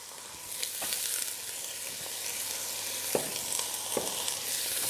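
Onions fry in oil in a pan with a continuous bright sizzle, moderately loud and close. A few soft clicks and knocks from stirring come through now and then, with no talk.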